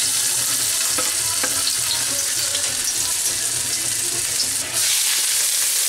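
Ginger hits hot vegetable oil for a sirloin stir fry, a loud, dense, hissing sizzle that stays steady and close, with faint stirring clicks and a brief dip near the end.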